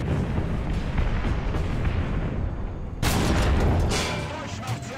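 A T-64 tank cannon fires in War Thunder, a sudden loud boom at about three seconds that cuts through steady engine and battle rumble, then rings out and fades, with someone talking over the scene.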